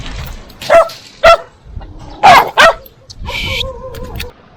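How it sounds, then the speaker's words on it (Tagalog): Several sharp barks and yips from a Belgian Malinois close by, spaced irregularly, followed by a brief higher whine, with faint background noise between. "Aso to ni Ate Jing eh."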